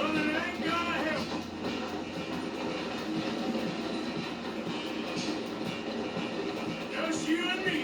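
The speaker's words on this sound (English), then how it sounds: "I'm gonna ride ahead and stop the train." A train running in the game Red Dead Redemption 2 gives a steady, continuous rumble and rattle with no clear breaks, fairly loud throughout, with faint higher clatter near the end.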